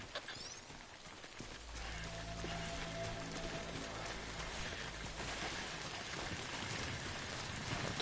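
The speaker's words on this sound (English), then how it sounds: "Good thing it was raining" Steady heavy rain in the video game Death Stranding, a broad constant hiss of falling water that fills the scene throughout, with a low rumble underneath and no voices.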